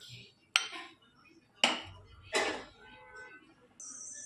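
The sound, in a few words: pressure cooker lid being closed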